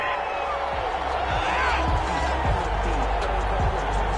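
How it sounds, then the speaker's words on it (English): Stadium crowd in a football video game roars and jeers after a penalty flag, a dense continuous wash of noise with thumping low hits throughout, steady and loud. "Well, the crowd doesn't like that."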